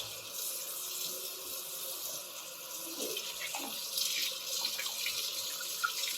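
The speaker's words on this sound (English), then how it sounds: "You want to put it under cold water to stop it from cooking." Cooked shrimp rinsed under a cold running kitchen tap after boiling, a steady broadband hiss of flowing water into a sink with small splashing shifts, fairly close and alone without talk.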